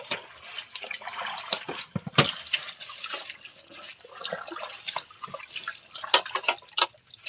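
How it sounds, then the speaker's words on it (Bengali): Taro leaves are rinsed by hand in water, giving off irregular splashes, drips and trickles that come close and fairly soft, with sharper sloshes now and then and no one speaking. "এখন আমি ধুয়ে নেব।"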